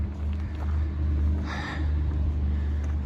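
Distant road traffic near a trailhead by Ross Lake, a steady low rumble with a vehicle passing more clearly midway, heard outdoors without speech.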